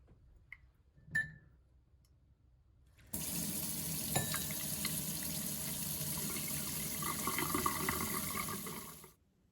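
A kitchen faucet with a broken, fallen-off part is turned on after a brief knock, letting water run in a steady rushing stream into the sink for several seconds before it is shut off.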